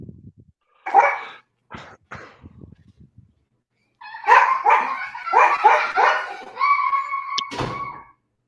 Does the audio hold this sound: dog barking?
yes